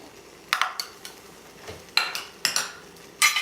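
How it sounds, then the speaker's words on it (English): A metal spoon clinks and scrapes against a bowl while mayonnaise is added to cooking cream for a tilapia remoulade sauce, giving several separate sharp taps spread out over a few seconds. "So we're adding mayonnaise to that."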